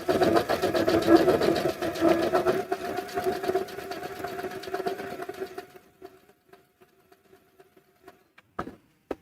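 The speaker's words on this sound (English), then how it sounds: "I'm going to start by doing a couple stitches forward, holding down the reverse to go backwards, and then letting it stitch to the end here." A sewing machine stitching forward, then reversing to back stitch, hums steadily and close for about six seconds before stopping, followed by a few faint clicks and handling sounds.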